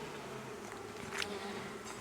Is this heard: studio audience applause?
no